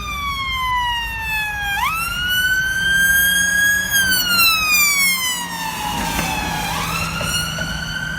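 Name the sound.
ambulance siren passing with Doppler effect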